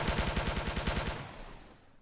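A fast burst of full-auto machine gun fire in the video game 007 Quantum of Solace rattles off in rapid, even shots for about a second, then stops abruptly and leaves a fading ring.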